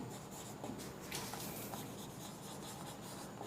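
Marker or chalk writing on a classroom board during a physics lesson on magnetism, a steady scratchy stroking that continues for several seconds, fairly faint with room noise.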